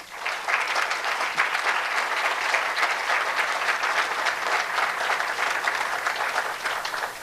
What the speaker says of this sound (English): Please, another round of applause for Joseph.